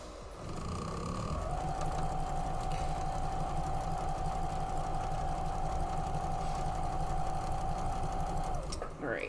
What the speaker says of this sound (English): that was the last one that we needed to sew up.